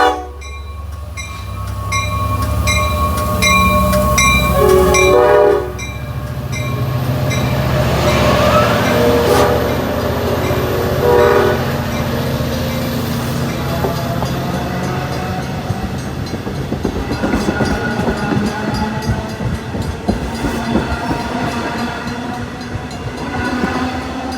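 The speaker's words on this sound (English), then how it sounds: "watched my train, 2746, clear the station." A Long Island Rail Road commuter train rumbles out of New Hyde Park station, wheels clattering and screeching over the rails, with a loud horn blast near the start, steady and close.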